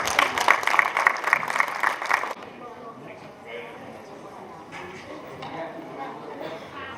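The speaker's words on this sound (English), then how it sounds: "we all want to give him a warm welcome and a round of applause to Mr." An audience at a Mon National Day celebration applauds to welcome a speaker with a brief burst of dense clapping that stops abruptly after about two seconds, leaving quieter room sound and faint talk.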